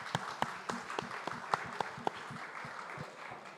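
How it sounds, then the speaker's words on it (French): An audience at a round-table event on insertion through sport applauds steadily, with sharp individual claps standing out over a continuous wash of clapping that carries on throughout. "que je vous demande d'applaudir"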